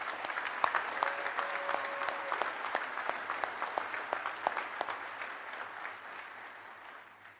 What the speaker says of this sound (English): Let's give all of our recipients a well-deserved round of applause